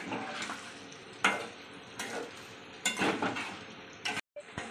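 Chicken curry stirred in a pot with yogurt and spice paste, giving a soft continuous scraping and squelching with several louder clinks of the utensil against the pot, close up and without speech.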